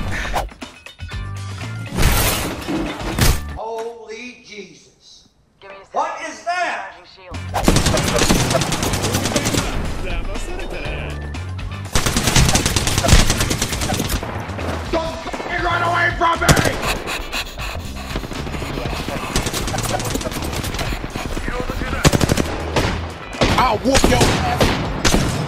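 Heavy Apex Legends gunfire with rapid automatic bursts and crashing impacts over about 25 seconds, loud and close, broken by a short quieter gap, with players shouting and talking in between.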